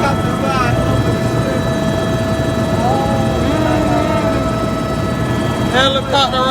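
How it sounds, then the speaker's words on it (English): Helicopter flying over the Las Vegas Strip, a loud, steady droning rotor and engine roar heard up close throughout, with faint voices briefly rising over it. "Helicopter ride over the"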